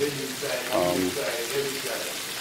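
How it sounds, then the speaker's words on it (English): Steady sizzling and crackling of fish frying in a pan at Hellshire Beach, Jamaica, close by, with voices talking over it. "frying up some fish right here"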